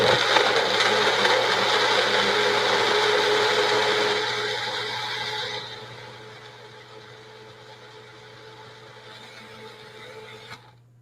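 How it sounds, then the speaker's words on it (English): An electric blender running loud with a thick salsa mix containing cilantro, whirring steadily before its pitch drops and the motor winds down, then stops. "I like this blender."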